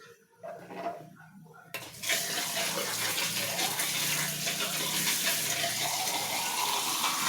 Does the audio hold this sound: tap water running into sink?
yes